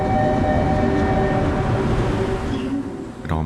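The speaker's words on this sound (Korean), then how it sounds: "오늘 탑승할 KTX가 승차원으로 들어오고 있습니다." A KTX high-speed train rolls into a station platform with a loud, steady rumble and droning hum, then slows and eases off, ending with a short squeal.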